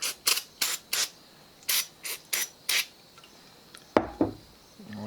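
A series of short, sharp aerosol brake cleaner spray bursts in an uneven rhythm, then a couple of clunks and rattles close by.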